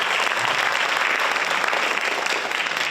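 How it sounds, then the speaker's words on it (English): Steady applause from an audience at a Women's History Month panel, dense and sustained for several seconds, fairly loud with no speech over it. "Give her a round of applause."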